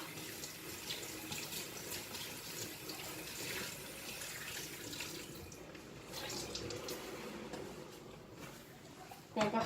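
A kitchen tap runs softly and steadily while salad leaves are rinsed under it, with quiet handling noises and a brief clatter at the end.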